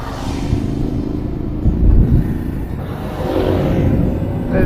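Yamaha Tenere 700 adventure motorcycle on a Queensland ride, its engine rumbling low and close with a surge of throttle mid-way as it pulls off, then steadily droning on.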